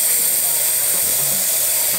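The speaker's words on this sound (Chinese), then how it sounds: "你要使用之前，一定要先把这个管子里面的蒸汽排出" Steam purged from the wand of a Bellman CX-25 stovetop espresso maker, a steady loud hiss lasting about two seconds before fading at the end, heard alone.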